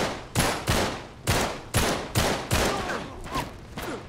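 Gunfire in Uncharted: Drake's Deception, a rapid series of about eight loud, sharp shots in uneven rhythm with ringing debris and echoing tails between them.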